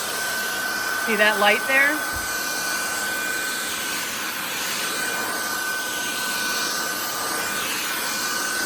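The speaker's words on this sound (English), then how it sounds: "You can change the level of suction by hitting this button, okay? So that's on max." A cordless stick vacuum cleaner runs at max suction, a steady high whine and airy roar throughout, with a short spoken remark near the start.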